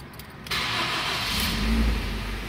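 A Ford EcoSport's engine cranks briefly and catches, then settles into a steady, loud idle up close, with no voices.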